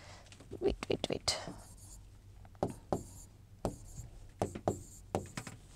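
Scratchy pen strokes on paper as notes are written by hand, coming in short bursts with pauses, close and faint, with occasional whispered speech between them.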